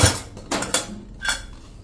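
A metal pressure cooker lid is opened after cooking moong dal, giving a few sharp metallic clanks and clinks spaced over about two seconds, close and without talk.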